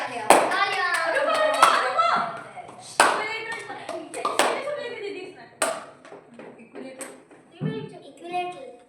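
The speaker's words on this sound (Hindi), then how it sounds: "तालियां तालियां तालियां तालियां" Children clapping their hands in a home tuition class, several quick bursts of applause with a child chanting and other kids talking between them.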